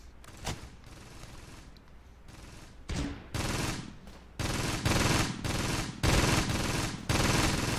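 Bursts of gunfire in the Close Combat: Gateway to Caen video game, loud machine-gun volleys starting sparse and growing into near-continuous rattling fusillades.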